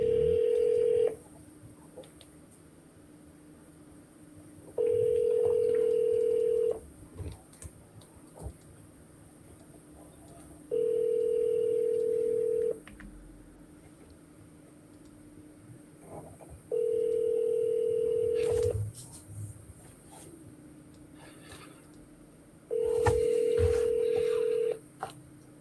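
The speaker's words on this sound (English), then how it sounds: "so we just called Jason" An outgoing telephone call repeats a ringback tone in evenly spaced steady bursts, each lasting about two seconds with quiet gaps between, clear and fairly loud over faint background hiss.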